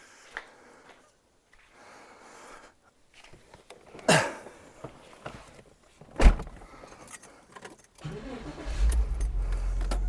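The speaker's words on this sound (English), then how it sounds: "Let's just see if I can move my car in without bashing it into anything." A Porsche Boxster 986 is moved into a garage space: quiet shuffling and a door thud, a loud clunk, then the engine starts and idles with a low rumble near the end, close by.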